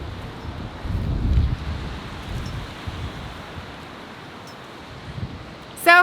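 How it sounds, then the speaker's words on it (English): Strong wind whips across an outdoor garden on the Oklahoma plains, a low, buffeting roar on the microphone that swells and eases in gusts. "you probably can't hear much more than the wind whipping right now"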